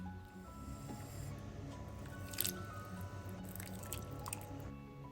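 Water poured from a regular teacup while measuring out cups for turmeric and ginger tea; a faint, steady trickle with small wet splashes, close by and without talk.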